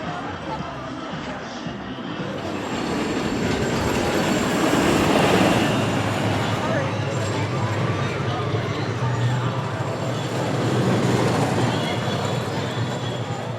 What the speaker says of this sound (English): Railblazer has been down all morning, but has been sending a couple test trains.